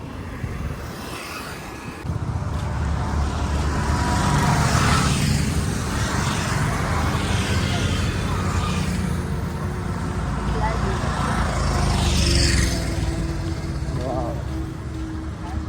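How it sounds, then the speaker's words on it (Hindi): A car speeds along a city road in Guwahati, its engine and tire noise swelling loud and close and holding as a steady roadway rush, with traffic around it. "गाड़ी भी कितना स्पीड से जा रहा है"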